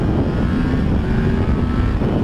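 A 2016 Yamaha MT-10 Crossplane motorcycle ridden hard at speed, a steady, loud, unbroken engine roar blended with rushing wind noise that holds for the whole stretch, with no talking.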